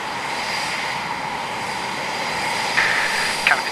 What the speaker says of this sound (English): Canopy's closed, throttles are up, engines are started and taxiing out for runway 25